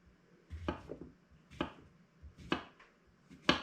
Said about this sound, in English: So I'm just going to finely chop my cucumber.